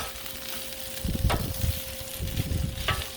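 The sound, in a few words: chicken fried rice sizzling on a Blackstone griddle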